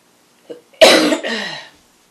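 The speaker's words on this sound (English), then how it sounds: "I'm sorry for coughing like that" A single person coughs with no talking: a short faint catch, then one loud harsh cough and a weaker trailing second burst, all close and clear against silence.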